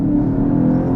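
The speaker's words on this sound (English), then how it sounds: "I'm in sport mode, so I've got fake engine noise" Synthetic engine sound piped into the cabin of a 245hp Skoda Octavia vRS petrol estate in sport mode, a steady droning hum during a 0-60 run, close and continuous with no talk.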